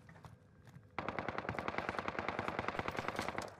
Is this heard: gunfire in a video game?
yes